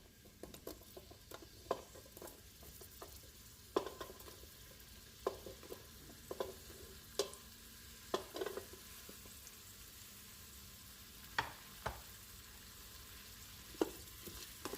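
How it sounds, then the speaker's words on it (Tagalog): Chopped onions sautéing in an Instant Pot, a quiet steady sizzle with scattered soft pops and occasional spoon taps, faint and close with no talking. "So now, isusutay na natin ang onions. Our chopped onions."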